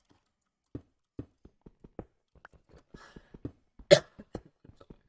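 A person gives one sharp cough, close and distinct, amid a sparse scatter of quiet tapping clicks.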